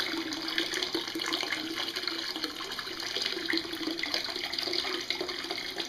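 Water rushes steadily into a DIY portable shad livewell aboard a small boat, a constant, close hissing splash with no voices.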